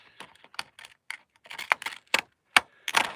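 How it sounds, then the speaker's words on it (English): Decorative lacy-edged craft scissors cut along the bottom of a piece of paper, making a string of crisp, close snips at an uneven pace with short quiet gaps and no talking. "I'm going to cut the bottom of this with the lacy scissors"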